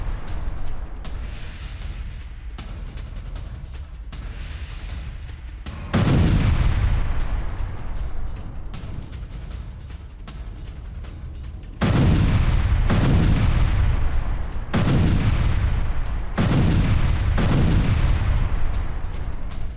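Hamas mortar and grenade attack on an Israeli tank in Gaza: several loud, close blasts, each a sharp boom trailing into a rumbling decay, separated by quieter stretches of low background rumble.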